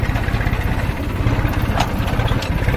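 A tractor engine running steadily in a mustard field, a loud close low chugging drone with a regular throbbing rhythm throughout and no talk.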